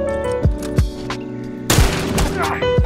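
Hunting rifle shots ring out in a multiplayer firefight in The Last of Us Factions, loud sharp cracks at an uneven pace with a heavier burst of fire partway through, over ongoing game noise.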